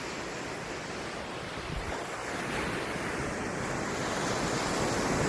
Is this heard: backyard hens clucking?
no